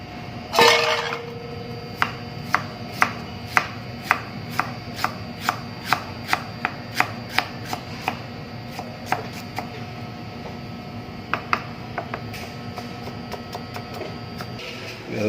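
Sitaw string beans for ginataang sitaw are sliced on a cutting board, heard as a steady series of crisp knife taps, about one or two per second, close and clear after an initial louder clatter, with no speech.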